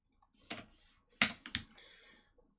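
A few quick keystrokes on a computer keyboard, a single click then a tight cluster of sharp taps, close and quiet, no talking.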